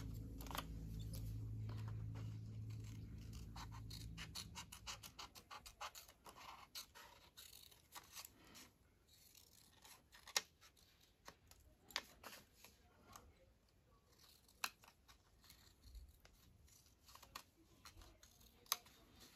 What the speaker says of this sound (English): And I'm going to cut some of that shrubbery off.